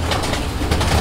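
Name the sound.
yellow king pigeon cooing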